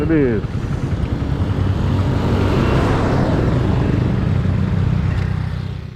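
A large bus roars loudly past on a road in a rainstorm, its engine and rushing tire noise swelling and then fading over several seconds, with a short horn-like tone at the very start.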